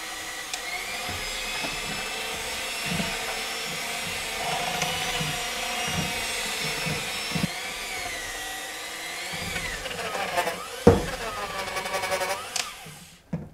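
Handheld electric mixer kneading stiff, heavy dough, its motor whining and straining with a steady high-pitched drone that wavers and bogs down under load, close by, with a few short knocks from the bowl.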